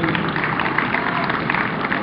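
Audience at a Quito festival queen pageant in Madrid giving a brief, dense burst of applause, steady and fairly loud throughout.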